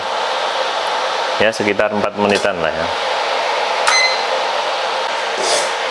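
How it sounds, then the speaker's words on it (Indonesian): A steady whirring cooling-fan hum from a Hi-Cook IC-01 induction cooker, still running after switch-off, close and constant, while a person speaks briefly over it. "setelah kita matikan, kipas terus berbunyi ya, karena untuk menjaga suhu kompor ini tetap dingin"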